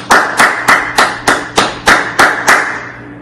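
A single pair of hands claps in a slow, even rhythm, about nine sharp claps close by at an athletic awards ceremony for a basketball team, with no talk.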